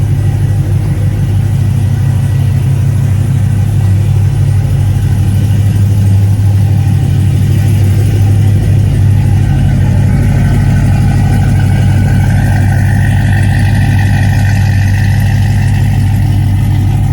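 A Cadillac CTS-V with a newly fitted exhaust idles loudly and close up, a steady deep rumble that holds without a break and swells slightly toward the end, with no talking.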